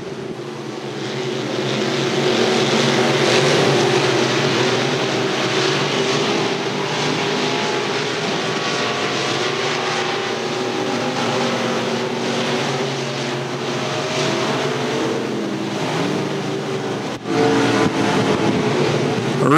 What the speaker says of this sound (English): Everybody spread out here in heat race number three here of your IMCA Northern Sport Mods.